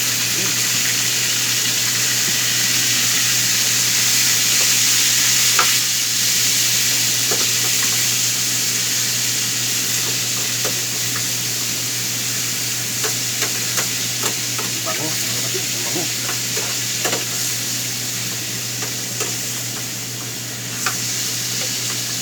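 Cooked rice is fried and stirred in a pan with adobo, giving a constant loud sizzle with scraping and stirring noises from a utensil throughout.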